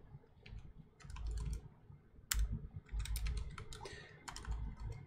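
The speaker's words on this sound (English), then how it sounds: "if I could type today" Quick bursts of close clicking on a computer keyboard at a Linux terminal, typed in uneven clusters separated by short pauses, quiet overall with no talking.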